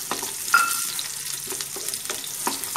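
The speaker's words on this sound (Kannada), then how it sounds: "ಹಂಗೆ ಬೆಳ್ಳುಳ್ಳಿ, ಬೆಳ್ಳುಳ್ಳಿ ಒಂಚೂರು ಫ್ರೈ ಆಗಲಿ." Garlic frying in a pan for red chutney, a bright, steady hiss of hot oil with a few light stirring taps, close and without talk.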